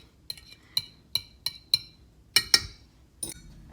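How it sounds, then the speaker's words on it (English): Utensil clinking against a glass container while an egg is stirred, a series of sharp, evenly spaced taps with a quicker double knock near the end, close and clear with no talking. "We're going to mix that together"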